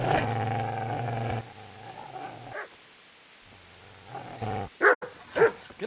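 A dog in Kingdom Come: Deliverance barks and growls in a few sharp, close bursts, with quieter gaps between and a final pair of loud barks.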